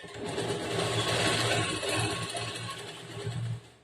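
A sewing machine runs continuously as it stitches the side seam of a blouse, a close, steady motor whir with a fast rhythmic needle pulse that slows and cuts off near the end.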